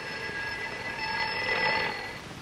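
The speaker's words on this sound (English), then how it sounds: "Start this bell vibrating." A sustained metallic ringing holds steady with several bright overtones, swelling slightly before fading a little, with no voices.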